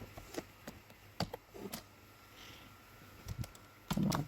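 Sparse keystrokes on a computer keyboard while entering an SQL query, quiet close clicks in short irregular bursts separated by pauses, ending with a heavier tap.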